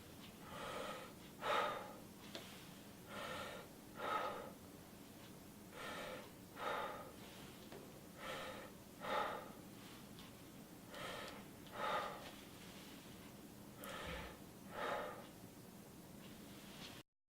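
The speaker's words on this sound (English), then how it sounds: "Breathing deeply so many times can cause the patient to hyperventilate" A patient breathes deeply during a pulmonary exam, about a dozen slow, evenly spaced airy breaths, close and soft with no talking.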